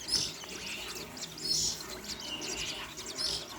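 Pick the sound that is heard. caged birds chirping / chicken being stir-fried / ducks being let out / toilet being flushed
caged birds chirping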